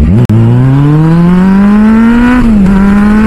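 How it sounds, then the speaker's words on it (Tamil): Kawasaki Z800 motorcycle accelerating hard, a loud, close exhaust note climbing steadily in pitch through a gear, with a brief gap early on and a short dip near the end. "எக்ஸாஸ்ட் நோட்டு வேற லெவலில் பிரிக்குது."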